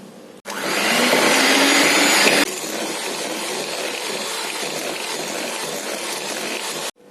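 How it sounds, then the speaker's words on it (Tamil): A hand blender whirs steadily as it beats 225 grams of butter in a bowl, loud and close, starting abruptly, easing to a slightly lower pitch after a couple of seconds, then cutting off near the end. "நான் ஹேண்ட் பிளெண்டர் வச்சு தான் பீட் பண்ணுறேன்."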